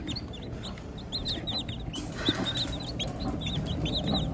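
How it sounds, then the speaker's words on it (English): Twelve baby chicks cheeping inside a bucket: a dense chorus of many high, short peeping calls overlapping continuously, close and moderately loud over a low background rumble. "There is 12 baby chicks in that bucket."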